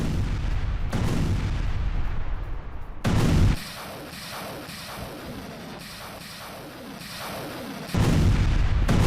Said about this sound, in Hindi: वोस्तोक आर्टिलरी ब्रिगेड ने दागी दर्जनों मिसाइल